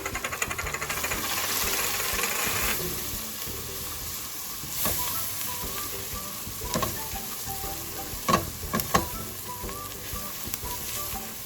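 Dal with vegetables sizzles steadily in a pot while a spoon stirs through it, with occasional clinks and knocks against the metal rising above a constant frying hiss.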